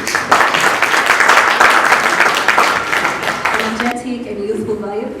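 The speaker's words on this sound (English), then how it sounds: "a round of applause as Eunice walks onto the stage." Audience applause at a magazine launch event as a woman walks onto the stage, a steady burst of clapping that stops abruptly, followed by speech.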